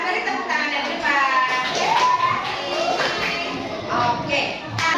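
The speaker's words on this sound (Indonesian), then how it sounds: "Kita koreksi dan beri tepuk tangan yang depan." Children clapping in a classroom coding and computational thinking lesson, a brief burst of claps mixed with chatter and a teacher's voice over it.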